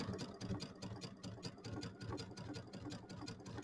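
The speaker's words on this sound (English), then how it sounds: "We're going to sew down into the corner." Sewing machine running steadily at close range as it stitches binding down onto a mini quilt toward the last corner, a continuous mechanical whir with a fast needle rhythm and no talk.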